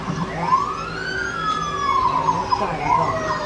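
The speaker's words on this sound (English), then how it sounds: "Now, the police with lights and sirens on." A police siren wails during a pursuit, rising and falling as it passes nearby, with a car engine underneath.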